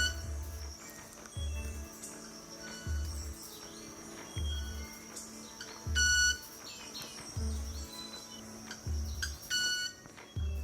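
A club-winged manakin shakes its wing feathers to make a high, thin, vibrating ringing tone that repeats among other bird chirps, over a regular low thumping pulse.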